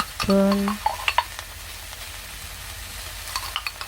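A zucchini stir-fry with salted shrimp is stirred in a pan: light sizzling with a few scraping, clinking utensil strokes against the pan, close up, after a brief tonal beep near the start.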